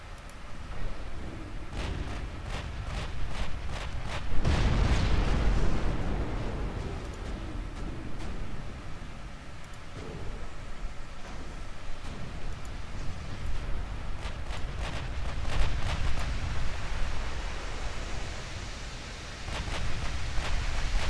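Naval guns firing high explosive shells in the warship game Ultimate Admiral Dreadnoughts, with repeated sharp reports over a steady rumbling sea-battle din and one heavy, louder blast partway through.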